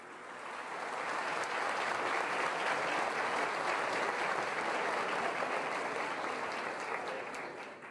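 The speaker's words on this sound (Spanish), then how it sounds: "recibamos con un fuerte aplauso" Sustained audience applause fills a conference hall at a Colombian Constitutional Court event as a speaker from the Special Jurisdiction for Peace is welcomed, dense steady clapping swelling in and holding at even loudness for the full stretch.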